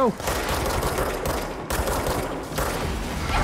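Gunfire aimed at the player in the game Control: rapid, dense automatic bursts, loud and close, continuing almost without a break, with short gaps between volleys.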